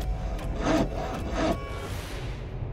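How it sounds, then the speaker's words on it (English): Two rasping back-and-forth saw strokes grind through a limb's flesh and bone, followed by a fading scrape, with no voices. "The saw was laid onto the limb, sawing through the skin, the muscle, the connective tissue,"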